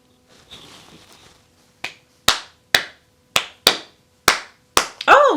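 Hands clap a Ghanaian five-beat drum pattern. About eight sharp, close claps fall in an uneven, syncopated rhythm after a faint rustle, with no talking over them.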